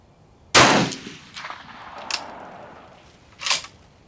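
A single rifle shot cracks out sharply at an outdoor shooting range, followed by a decaying echo and a couple of fainter distant reports from other shooters.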